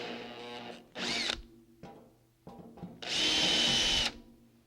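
Drill enlarging holes in the steel cabinet of a table saw, two short high whining bursts, the second longer, separated by quieter clicks and handling sounds.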